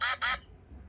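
A toy cell phone plays a recorded duck sound: two quick, loud quacks in a row, close and clear, followed by quiet background.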